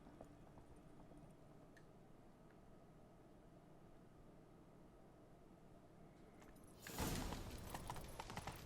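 Horse hooves in The Witcher 3 video game, a faint rhythmic clip-clop under a quiet background, turning into a loud burst of noisy activity near the end.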